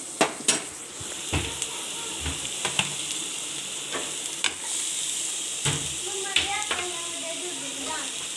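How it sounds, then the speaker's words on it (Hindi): Vegetables with cumin frying lightly in a pan, a soft steady sizzle with scattered stirring scrapes and utensil clinks close by, someone talking over it at times. "इसको हल्का सा फ्राई करना है, ज़्यादा नहीं करना"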